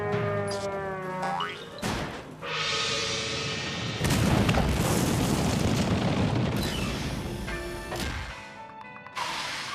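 A cartoon volcano erupts with loud booms and a long, dense roaring rumble that swells midway and holds before easing, with springy cartoon sound effects scattered around it.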